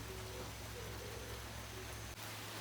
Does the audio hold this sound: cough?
no